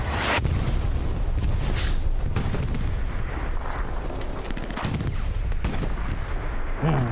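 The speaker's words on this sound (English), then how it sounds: "Katushka strike inbound, though." Katyusha rocket artillery strike landing in a WWII shooter game on the Kharkov map, a dense, continuous roar of booming impacts and gunfire filling the whole stretch, loud and close with no talk.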